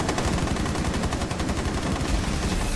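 Rapid gunfire from Rainbow Six Siege during a Nest Destruction event, a dense, continuous burst of automatic shots that stays loud and close for the whole stretch with no talk over it.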